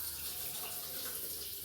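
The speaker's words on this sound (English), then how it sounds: "the moment I will just start this thing, the water is gushing out, and that water is striking through this pipe" Water from a hand shower head gushes steadily onto the blades of a small mini turbine generator, a constant, hissing splash with no pauses and no voices.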